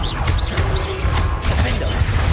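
The Confringo fire spell cast in Hogwarts Legacy: a loud, dense burst of magical whooshing and crackling game effects with rising chirps, continuous for a couple of seconds.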